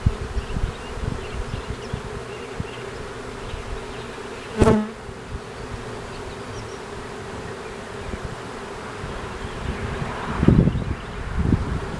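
A honey bee swarm in an arborvitae outdoors gives a steady, dense buzzing hum all through, with a light wind and rustle and a brief louder knock partway in.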